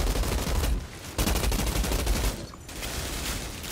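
Rapid automatic gunfire in the shooter game Outriders, dense loud bursts of shots with a brief pause around the middle and another dip near the end, with no talking.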